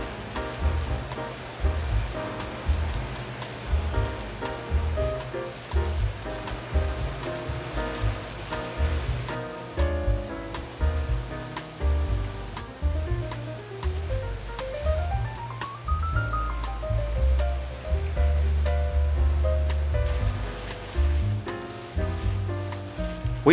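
Rice noodles for pad thai fry in a pan with a continuous rain-like crackle and hiss, running under low background music with a rising tonal sweep partway through.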